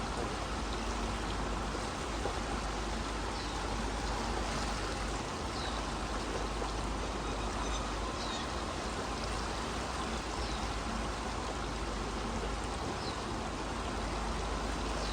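Swimmers in a pool during a swim coaching session blow bubbles underwater, making a continuous, dense gurgling, bubbling water noise at an even level throughout, with no voices.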